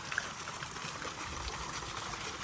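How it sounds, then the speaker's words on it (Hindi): A garden fountain that is not yet fully filled and is running at low pressure makes a steady, faint, hissing flow of water, continuous and without breaks. "हम लोग का झरना, हम लोग का फाउंटेन कुछ ऐसा तरीके का"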